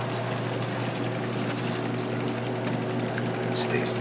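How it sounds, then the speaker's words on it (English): Reef tank top-off pump pumping water out, a steady low motor hum with a constant drone under faint splashing, with a voice talking over it. "we are pumping water out, so that's good"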